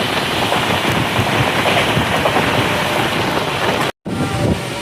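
Shalimar to Puri Superfast Express running at night, a steady loud rumble and rattle of the moving train continuing throughout with a brief dropout near the end.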